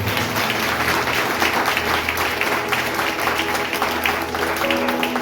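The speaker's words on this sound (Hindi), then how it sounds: "जोरदार ताली बजाइए उसके लिए।" A church congregation claps hard and steadily, a loud unbroken wash of applause with a low hum beneath and faint voices inside the crowd noise.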